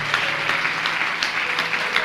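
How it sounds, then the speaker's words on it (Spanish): A church congregation at a worship service applauding together, steady dense clapping with a rhythmic pulse running through it, filling the room at a strong level. "Aplauda, aplauda la gloria de Dios."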